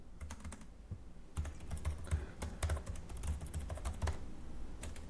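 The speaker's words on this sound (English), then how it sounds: "Actually, while I'm typing, I'll do concurrency." Someone types on a computer keyboard during a coding session, with quick irregular clicks and brief bursts of keystrokes. The keys sound close but quiet, with no talking over them.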